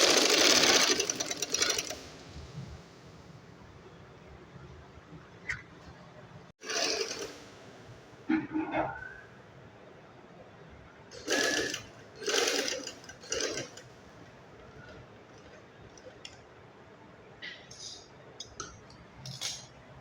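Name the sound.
sewing machine stitching a child's shirt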